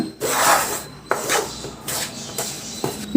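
Milk powder and sugar stirred together in a bowl for palkova, a dry scraping and rubbing sound in several separate strokes, close by, with no talking.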